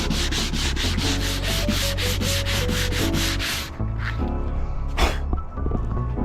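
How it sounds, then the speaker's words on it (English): Hand sanding of thin teak plywood veneer on a boat, a steady back-and-forth scrubbing rasp of regular strokes that fills the first half, then lighter, sparser rubbing with a few scuffs, close and loud with no talking. "I'm gonna hand sand this and see if I can get it all the same color"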